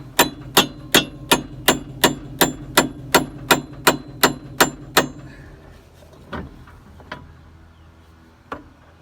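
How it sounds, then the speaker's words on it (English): Hammer blows strike a metal piece on a Krone mower conditioner hub, twelve sharp, evenly spaced clangs, then a few scattered quieter knocks and taps. "You just take the broken piece out and then hammer it on out."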